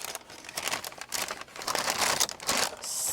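Wrapping paper from a flower bouquet crinkles and crumples close by in a steady run of papery rustles over about three seconds, with a few sharper crackles near the end.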